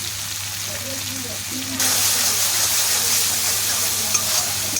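Fish masala frying in oil while being stirred, a steady sizzle that grows louder partway through against a constant low hum.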